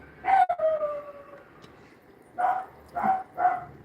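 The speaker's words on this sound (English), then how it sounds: "And there's the dog barking again." A dog barks somewhere in the house: one bark, a pause, then three quick barks in a row, moderately loud and without speech.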